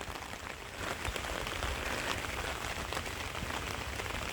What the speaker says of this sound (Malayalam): മഴയെന്ന് പറഞ്ഞാൽ നല്ല ഒന്നാന്തരം മഴ.